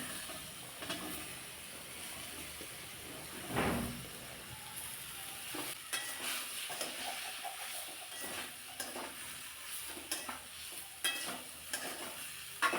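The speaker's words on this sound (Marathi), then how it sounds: "या फोडणीमध्ये तेलामध्ये चांगल्या फोडी परतून घ्यायच्या" Pumpkin pieces fry in tempered oil with a soft, steady sizzle, while a spoon stirs and scrapes against the pan in irregular bursts and occasional clinks.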